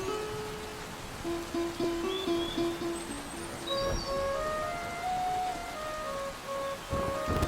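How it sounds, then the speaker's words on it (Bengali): Steady cartoon rain hisses softly and evenly throughout, with a light tonal musical melody playing over the downpour. "দেখো কত বৃষ্টি হচ্ছে"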